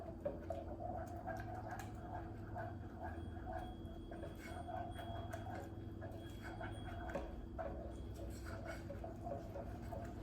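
A mixture for homemade hamburger buns is stirred in a pot as it thickens into a gloopy paste, giving soft, steady squishing and dripping sounds over a constant low hum, with no talking.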